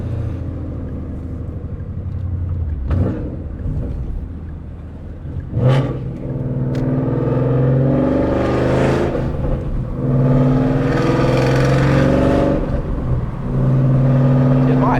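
Ford Mustang GT with headers revving and accelerating on a road at sunset, a loud close rising engine roar with rhythmic gear pulls and deep rumble that continues throughout.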